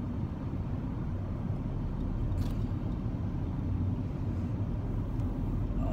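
A car driving along a road, heard from inside as a steady, broadband rumble of engine and road noise with no talking over it.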